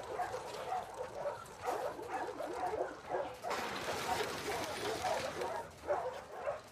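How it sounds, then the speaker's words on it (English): A dog in the video game The Last of Us Part II gives several short barks and yips in bursts, with faint whimpers, close and fairly clear over a constant background of ambient game noise. "You crazy dog."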